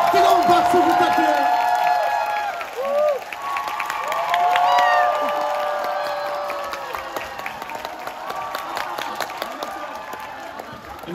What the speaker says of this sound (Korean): 뜨거운 박수 부탁드려요.